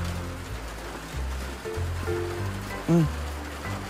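A steady wash of falling rain hisses beneath the scene, with brief voices and a sudden sharp tonal squeak breaking through.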